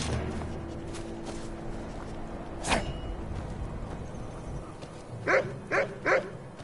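A dog in the video game Skyrim barks three times in quick succession near the end, fairly close, after a single sharper knock earlier over a low game ambience.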